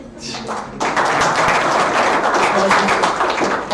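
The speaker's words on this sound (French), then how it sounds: "On peut l'applaudir." An audience at a live startup pitch evening applauds a new master of ceremonies, a steady wash of clapping that rises quickly and continues under a speaking voice.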